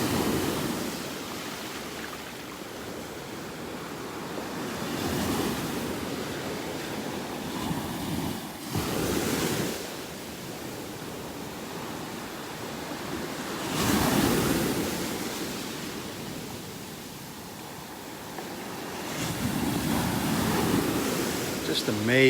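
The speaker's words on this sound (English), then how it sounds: "I could just stand here all morning listening to these waves and watching them." Ocean waves break and wash onto the beach at North Naples, Florida, in a steady roaring surf that swells loudly every few seconds, with some wind buffeting across the microphone.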